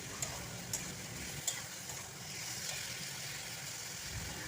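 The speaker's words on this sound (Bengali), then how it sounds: "দিয়ে খুব ভালো করে এটাকে কষিয়ে নিচ্ছি" Soybean chunks and potato stir-fried in a pan, giving a soft continuous low sizzle with occasional light clicks of a spatula against the pan; quiet, with no talking.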